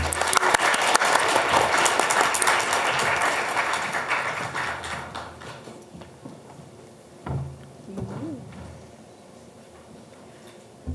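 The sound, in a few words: audience applause at alumni panel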